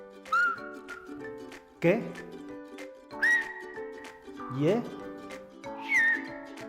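Silbo Gomero, the whistled language of La Gomera, sounds as a series of loud, sliding whistled phrases at an even pace, each answered by short bursts of speech.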